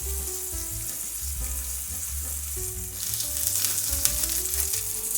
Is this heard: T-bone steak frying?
yes